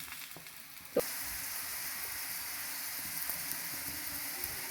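Roti cooking on a hot griddle with desi ghee spread on top, a steady close sizzle and frying hiss running throughout, with a single sharp tap near the start.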